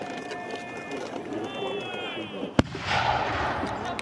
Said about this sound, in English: as you may now notice, we have artillery. Now which fires a ball of 6 pounds.